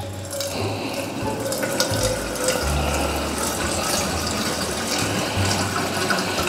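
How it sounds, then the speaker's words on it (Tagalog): Water pours steadily from a kitchen sink faucet, a continuous close rushing splash with a faint low mechanical rumble underneath, no voices. "Lababo. Diyan tayo kukuha ng tubig."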